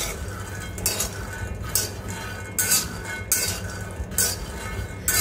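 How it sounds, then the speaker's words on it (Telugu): Peanuts being fried in a pan over a medium flame, with repeated clinking and scraping of a utensil against the pan in bursts roughly every second, close and fairly loud, with no voices. "మంచిగా మీడియం ఫ్లేమ్లో పెట్టుకొని ఇలా ఫ్రై చేసుకోండి"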